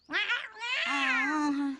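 A cartoon cat meows in a Doraemon episode, two drawn-out, high, wavering cries one after another, loud and close, with no talk over them.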